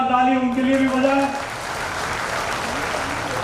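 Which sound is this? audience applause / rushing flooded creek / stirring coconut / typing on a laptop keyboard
audience applause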